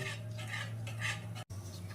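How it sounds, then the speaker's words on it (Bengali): Beaten egg mixture for egg halwa is stirred continuously in a kadai, producing soft scraping and gentle metallic clinks of utensil against pan over a low background hum, with a brief dropout near the end. "ডিমের গোলাটা দেওয়ার পরে এটা কিন্তু কন্টিনিউ নাড়িয়ে যেতে হবে"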